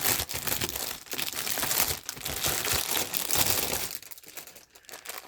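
Crinkly plastic wrapping on a cross-stitch craft supply package handled up close, a busy run of crackling and crumpling that eases off near the end.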